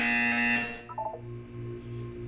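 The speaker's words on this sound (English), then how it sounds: "You will hear a buzzer" Portal 2 test-chamber buzzer: a bright, sustained electronic tone for about half a second that cuts off sharply, followed by a short burst of blips and a low, steady hum.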